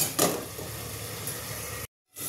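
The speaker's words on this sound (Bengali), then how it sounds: "এবার আমি এটা আর একটুখানি কষে নেব তেল ছাড়া অবধি।" Spice masala for ghugni fries in oil in a home kitchen pan, giving a steady, fairly quiet sizzle with a brief stir near the start and a short cut to silence near the end.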